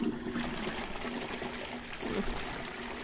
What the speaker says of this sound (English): let me flush that for you